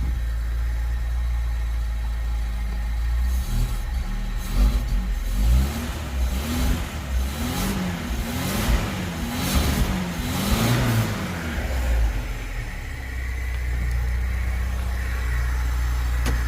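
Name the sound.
Lada car engine starting and running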